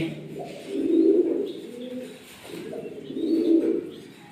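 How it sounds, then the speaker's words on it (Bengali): Running pigeons on a pigeon farm coo in two slow, swelling rounds, close and clear, with a few fainter chirps of other birds in the background. "এখান থেকে যদি কারো কবুতর পছন্দ হয় তাহলে আপনারা কবুতর নিতে পারবেন।"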